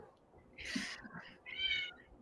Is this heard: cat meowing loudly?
yes